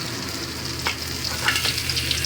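Pieces of amudi fish fry in oil, producing a loud, steady sizzle with light crackles and spatters.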